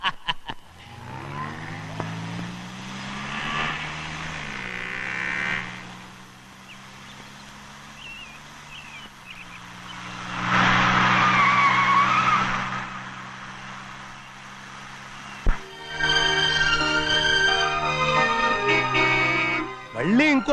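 A car pulls up and skids to a stop in a comedy film scene, a loud tire screech of a couple of seconds rising out of background music and a faint voice.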